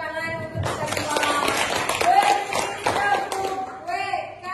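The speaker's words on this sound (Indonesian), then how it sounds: "tepuk tangan untuk kita semua" Hands clapping in a rhythmic patterned clap-along in a school classroom, with children's voices chanting and singing over the claps at close range.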